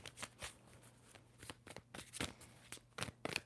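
Tarot cards being shuffled in quick, irregular riffling bursts, close and fairly soft, with a low steady hum underneath and no talking.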